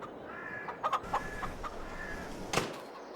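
A rooster in the video game Farming Simulator 22 gives a few short clucks and one sharper call, fairly faint over a quiet farmyard background.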